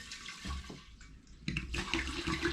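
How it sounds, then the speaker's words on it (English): About 900 ml of potato vodka spirit poured back into an air still for a third distillation, with short bursts of splashing, gurgling liquid that stop briefly and then resume louder. "So I'm going to begin by pouring my spirit back into the air still."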